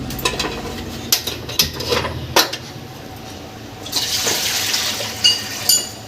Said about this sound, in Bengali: এবার জলটা দেবো গ্যাসটা জেলে জলটা দেবো